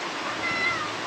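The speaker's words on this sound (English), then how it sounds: "This is the only time Minu meows." A pet cat meows while waiting for its dinner, a single drawn-out, fairly close call rising in the middle of a short quiet moment.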